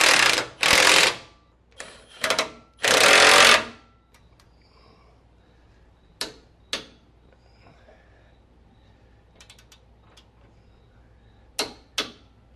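A lower control arm bolt and nut are being tightened on a 2014-2018 Silverado truck during a 7-inch lift install, with several loud bursts of ratcheting followed by scattered sharp metallic clicks and taps in a quiet space.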